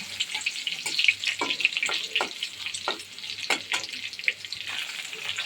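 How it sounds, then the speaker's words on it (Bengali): Crushed garlic frying in hot oil in a wok gives a steady close sizzle, with intermittent scraping stirs and light clinks spread through it. "এখন আগে থেকে থেতলে রাখা রসুনটা ছিটিয়ে দিলাম।"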